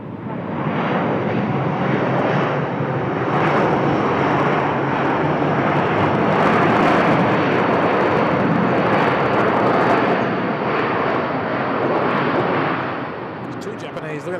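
Jet airliners departing Bangkok airport roar steadily and loudly for about fourteen seconds, a broad sustained engine rumble that swells slightly mid-clip before tapering off at the end.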